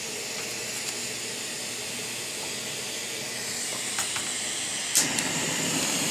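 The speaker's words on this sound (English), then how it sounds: "you have this right here will just click your stove on, and you just turn this little knob here" Lit camping cooking stove burner giving off a steady, close, even hiss from start to finish. A few faint clicks and a short rustle come near the end.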